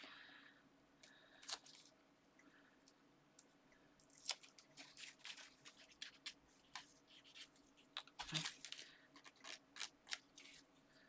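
Scissors snip through card stock to trim a snowman topper for a cutesy handmade Christmas card, giving short, sharp, irregular cuts at close range with soft paper handling between them and no talking.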